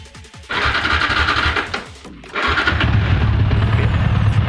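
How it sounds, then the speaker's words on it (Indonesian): Yamaha Vixion R motorcycle engine cranking briefly with the starter, then catching and settling into a steady idle, heard close and loud. "setelah itu kita hidupkan mesin"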